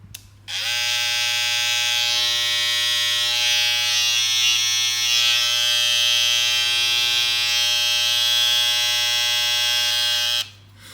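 A Babyliss FX One black hair trimmer buzzes steadily and loudly for about ten seconds, then switches off, with a high-pitched electric whine running through the whole hum.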